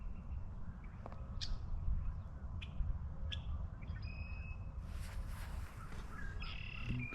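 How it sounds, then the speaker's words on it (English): Many birds call and chirp at a distance in Dale Hodges Park, Calgary, over a steady low rumble of background noise, scattered short calls overlapping throughout. "absolutely full of birds"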